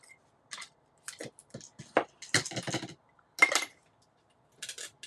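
Ribbon scissors snip through paper at a craft table, several short crisp cuts in irregular bursts separated by quiet pauses, close and fairly soft.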